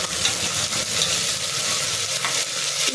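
Thickly sliced onion sizzles and crackles in hot oil for a tempering, a steady hiss with occasional stirring scrapes.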